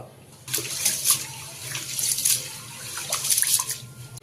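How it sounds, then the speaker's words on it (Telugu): A kilogram of basmati rice being washed in water for mutton kadai dum biryani, with running and splashing water starting after a brief quiet lead-in, then continuing with sloshes and drips close by. "ఒక కేజీ బాస్మతి బియ్యం తీసుకున్నాను ఇవి కడిగి నానబెట్టుకుందాం"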